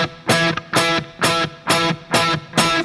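Staccato distorted electric guitar octaves from a riff, six short muted stabs in a steady even rhythm, each note cut off quickly with near-silent gaps between, played alone and up close.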